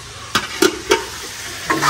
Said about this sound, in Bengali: চিকেন রান্না হচ্ছে।